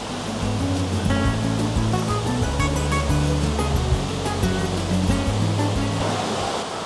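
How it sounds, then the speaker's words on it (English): Waterfall and river in South Wales, rushing water making a loud, continuous roar close by, steady from start to finish with no talking heard. "I hope you can hear me over the water"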